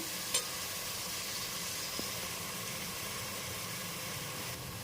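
Steady, gentle sizzle of tempering spices frying in oil on a low flame for fish curry, a soft continuous hiss with a faint clink early on and no talking.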